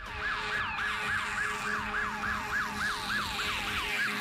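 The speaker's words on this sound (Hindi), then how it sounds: "न्यूयॉर्क पुलिस और फायर ब्रिगेड के सायरन पूरी न्यूयॉर्क की सड़कों पर गूंजने लगते हैं" Wailing emergency sirens of New York police and fire vehicles echo through city streets during the 9/11 World Trade Center attacks, a fast repeating up-and-down yelp pattern, loud and continuous over steady traffic rumble.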